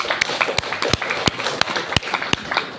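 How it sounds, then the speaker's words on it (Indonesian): Scattered hand claps from a small group, a dozen or so sharp separate slaps spread unevenly over a few seconds rather than a full round of applause, close and fairly loud. "Tepuk tangan dulu lah."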